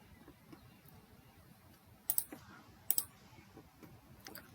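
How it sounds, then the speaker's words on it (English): A computer mouse clicks twice in a quiet room, two sharp separate taps about a second apart, with faint soft tapping around them and no speech. "I'm selecting this and click OK."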